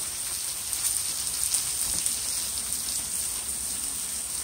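Thin strips of steak sizzle steadily in a hot pan, a constant bright hiss with scattered pops and crackles, close and loud, with no talking.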